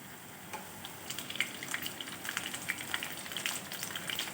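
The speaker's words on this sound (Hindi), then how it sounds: "दोनों तरफ से लाइट ब्राउन सा इनको फ्राई कर लें।" Eggplant pieces frying in oil give off a steady, fairly quiet sizzle speckled with small pops and crackles, heard up close with no talking.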